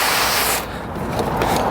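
Water sprays to wet down an engine bay after degreasing with Purple Power, a loud, close, steady hissing rush that dips briefly and then continues.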